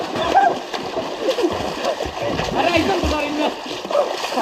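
Continuous water splashing and churning as someone swims across a pond, with distant voices and shouts mixed in.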